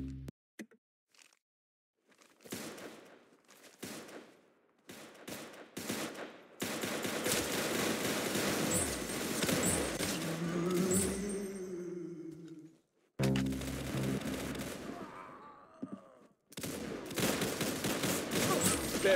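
Bursts of gunfire come in separate volleys, some sharp and isolated, others dense and sustained, with short silent gaps between groups of shots and a few brief tonal sounds mixed in.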